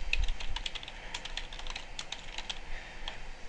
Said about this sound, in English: So if we just type that in